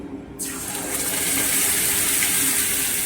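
Spice paste poured into hot mustard oil with black cumin seeds in a wok for a pea kochuri filling, bursting into a loud continuous rushing sizzle that swells and holds, close up.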